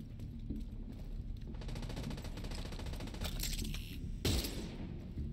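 Rapid automatic gunfire from the video game The Division 2 rattles in sustained bursts, with a louder blast near the end, loud and close, with no talking.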